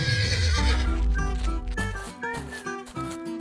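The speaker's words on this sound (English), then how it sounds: "Hey, horse, let's go." A cartoon horse gives a loud, long neigh with a shaky whinny at close range, followed by hoof clip-clops and a musical backing.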